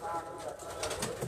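Pigeons on a rooftop give soft, low cooing calls, faint and continuous against light background noise.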